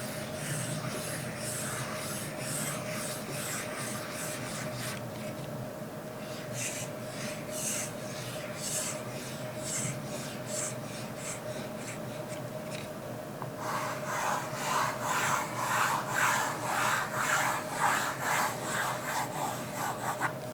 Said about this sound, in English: Writing on the screen is slightly louder than on other devices though.